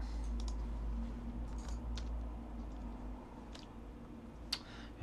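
Quiet, irregular clicking of keys on a computer keyboard, a few scattered taps over a steady low hum, with no talking.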